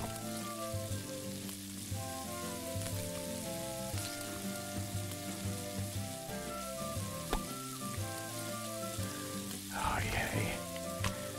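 Steady sizzling of food frying in the Octodad: Dadliest Catch video game, a continuous crackle over a tonal music bed, with a brief brighter burst near the end.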